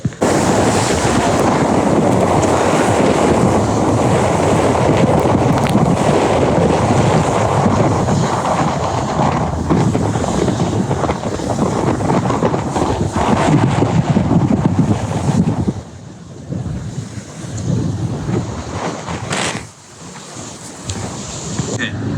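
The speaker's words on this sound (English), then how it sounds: "That's me, and that's that wind." Strong wind howls across a racing sailboat at sea in the Southern Ocean, a loud, steady roar with rushing water and buffeting gusts that drop briefly before surging back.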